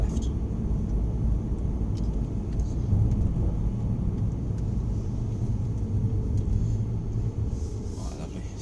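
A Mercedes-Benz family saloon car drives on a test track at Mercedes-Benz World, giving a steady low engine and road rumble from inside the cabin that holds evenly throughout, with no talk.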